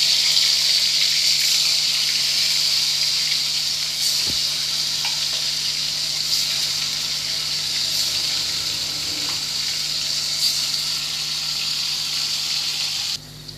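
Paneer fries in mustard oil with dried red chillies in a kadai, giving a steady, loud, continuous sizzle that holds for over ten seconds with no talking.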